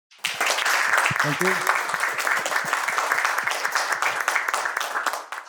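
A meetup audience gives a presenter a round of applause after a talk: dense, steady clapping that starts sharply, holds at a strong level for several seconds, then thins out, with a brief spoken voice over it.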